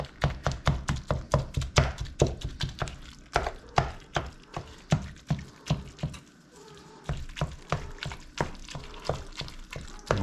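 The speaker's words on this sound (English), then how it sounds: "Now chop it. I'm chopping! Chopping! We're chopping!" Rhythmic knife chops on a cutting board while preparing food for cheeseburger sliders, a fast run of sharp, close strokes that pauses briefly before resuming.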